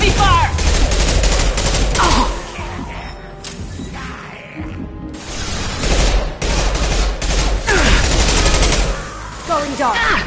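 Heavy gunfire in Mass Effect 2, a dense loud barrage of rapid overlapping shots and blasts that runs almost without pause, briefly thinning mid-way before surging again, with bits of game voice mixed in.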